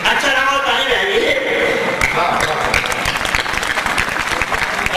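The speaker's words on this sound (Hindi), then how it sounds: "अच्छा लगा ताली बजाइए" An audience applauds steadily throughout at a Hindi comic poetry recital, dense clapping from a crowd, with a voice briefly heard over it at the start.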